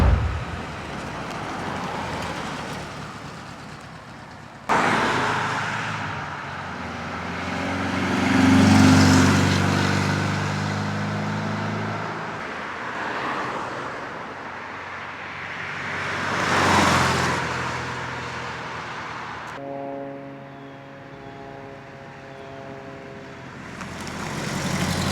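A 1958 Porsche 356A Speedster drives past in several flybys, its engine note swelling as it approaches and fading as it moves away, the passes separated by quieter stretches.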